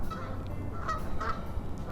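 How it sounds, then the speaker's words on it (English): Geese honk a few times in the distance on Roosevelt Island, New York City, faint calls over a low outdoor background rumble. "And the geese."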